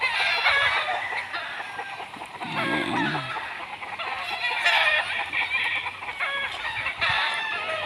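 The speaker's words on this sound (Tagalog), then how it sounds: "Ayan yung mga sisiw" Chickens, roosters and chicks cluck steadily around farm huts, with a rooster's crow rising briefly in the middle; the busy flock is close and continuous, with no talking.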